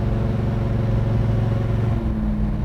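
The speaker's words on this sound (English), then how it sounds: "I just love the tone of the exhaust." A 1967 Chevrolet Chevelle's exhaust rumbles while driving, a deep, loud, steady throb heard from inside, with the pitch shifting as it shifts gear near the end.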